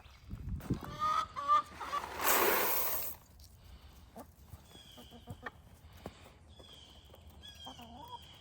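Backyard chickens clucking and squawking near the keeper as they wait for feed, a busy run of short calls with one louder burst, plus quieter chick peeps and a goose-like honk.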